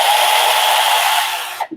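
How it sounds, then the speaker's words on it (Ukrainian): A Makita cordless battery saw switched on and running, a loud steady motor whine that holds, then winds down and stops with a couple of small knocks at the end. "І пилка включається."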